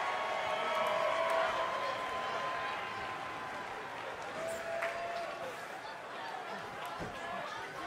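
Steady arena crowd noise in the WWE 2K20 wrestling video game, a continuous roar of cheering, chatter and applause from a large Glendale audience, with faint whistles rising above it.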